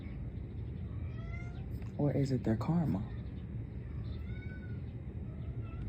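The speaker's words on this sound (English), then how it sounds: "One of the baby kittens just came out the room." Baby kitten meowing indoors: a short run of clear, high meows, fairly close, that sit under and between a person talking.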